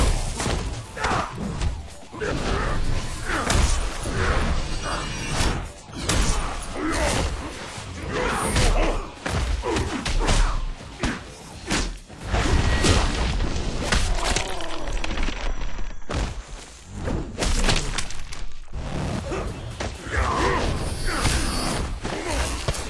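Mortal Kombat fight effects in a 2v2 match: a dense, continuous run of punchy slams, thuds and cracking hits with swishing attacks, loud throughout with little pause.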